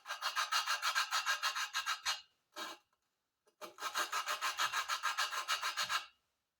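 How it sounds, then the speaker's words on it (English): An intake valve on a Briggs & Stratton 18hp opposed-twin engine (422437) is lapped by hand, making two runs of fast, even back-and-forth gritty rubbing strokes, close and clear, separated by a short pause. "The intake lapped in real good."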